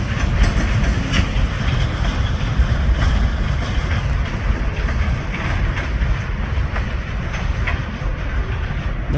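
Kiamichi Railroad SD locomotives haul a freight train eastbound at Idabel, Oklahoma, a loud continuous rumble with rhythmic clickety-clack of wagons rolling past close by for the whole stretch, no voices.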